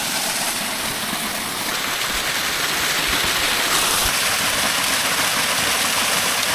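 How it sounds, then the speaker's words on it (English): A waterfall pours into a mountain gorge on Germany's highest peak, a loud, steady broadband rush that stays constant and close throughout with no voices. "I knew I heard a waterfall, and here it is."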